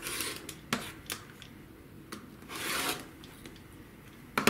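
A rotary cutter trims a quilt block of half rectangle triangles. Several short, sharp scraping rasps against the cutting mat come at irregular intervals, close and fairly quiet, and nobody speaks.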